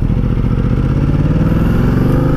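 Ducati Multistrada 1200S motorcycle engine running close and loud, a steady throbbing rumble held without a break.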